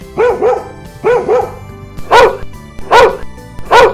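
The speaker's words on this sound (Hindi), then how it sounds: "अचानक जोर से भौंकने लगता है" A dog barks loudly several times in quick pairs and bursts, close and sharp, with no one speaking.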